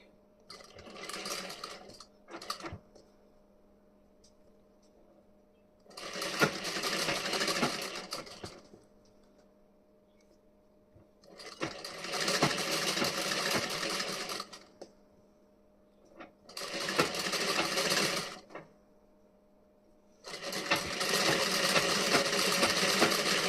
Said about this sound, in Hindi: इस तरीके से फोल्ड करके इस पे हमें सिलाई कर देनी है